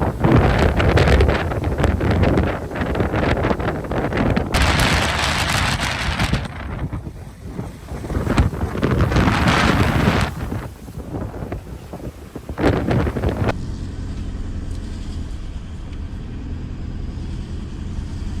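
Strong wind at sea buffeting a cargo ship carrying timber, loud roaring gusts and rushing noise with heavy microphone buffeting that swells and eases, then settles to a steadier, duller roar near the end.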